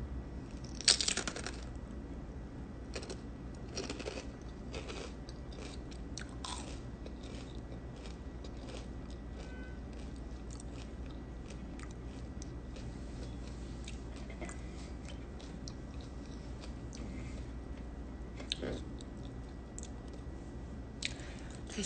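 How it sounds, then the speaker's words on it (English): Crunchy spicy food is chewed close to the mic in a long, faint run of irregular crunches and clicks, with no talking. "listen for the crunch"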